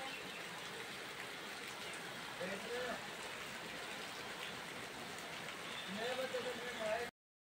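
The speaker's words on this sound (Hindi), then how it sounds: "तो देखो नारायणपुर में कितनी भयंकर बारिश पड़ रही है" Steady heavy rain in Narayanpur hisses and patters on surfaces, with faint voices murmuring underneath.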